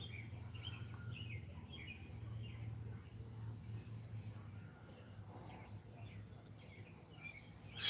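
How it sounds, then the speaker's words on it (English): Birds chirp faintly in a residential neighborhood heard from a front porch, scattered calls over a steady low hum, distant and soft throughout. "You can hear the birds too."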